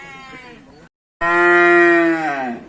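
Cattle at a rural livestock market in Thailand, where crossbred cows are being sold, give a single loud, sustained moo lasting over a second. It comes after a brief pause, with faint lower moo-like sounds before it.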